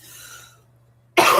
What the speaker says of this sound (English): So sorry for the coughing.